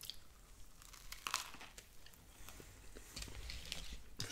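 Close, quiet crunching and crinkly bites of a crisp Hardee's steak biscuit being chewed, in irregular bursts without talk.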